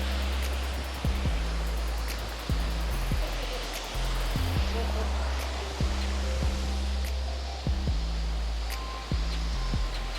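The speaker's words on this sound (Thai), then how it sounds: "มีน้ำตกเหมือนบ้านเราเลย" Waterfall at Kifune Shrine in Kyoto roars as a dense, steady wash of water noise, with repeated low thumps and faint background sounds riding over it.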